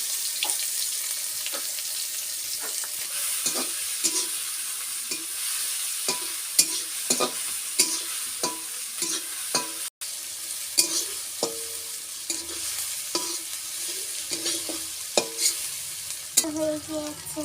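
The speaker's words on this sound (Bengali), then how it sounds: "এখন আমি পেঁয়াজ আর কাঁচা লঙ্কা দিয়ে দিব।" Onions and green chillies frying in hot oil in a pan, a steady bright sizzle broken by repeated sharp clicks and scrapes of stirring, close and without talk.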